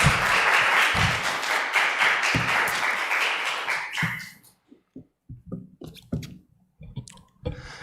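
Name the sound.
congregation applause welcoming pastor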